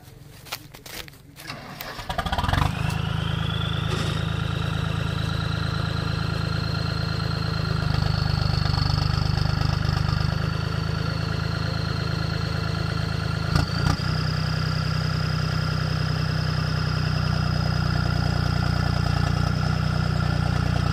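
Two tractors, a Jahaj 575 and a Touchan King, fire up and settle into a loud, steady diesel idle that drones on without pause, with no talk over it.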